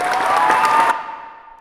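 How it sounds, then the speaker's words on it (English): Audience applause at a talk on youth and drugs, loud, dense crowd clapping that cuts off abruptly partway through, leaving a fading tone and room decay. "Applause."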